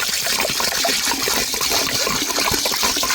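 Water pours steadily onto soaking chana dal in a bowl, a continuous close splashing trickle lasting a few seconds with no talking.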